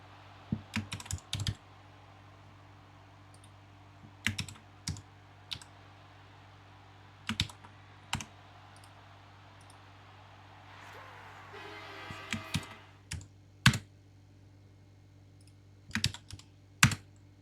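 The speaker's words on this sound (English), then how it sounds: "I used to think other people in the league had obsessively loud keyboards" Someone types on a loud computer keyboard in sharp, clattering bursts of clicks with short gaps between them. There is a faint hum and brief murmuring behind the keys.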